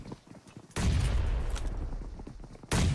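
Gunfire in the mobile battle royale game PUBG Mobile during a pre-fire: a quiet lead-in, then sudden loud bursts of rapid shots, a dense volley filling most of the stretch and another sharp burst at the end.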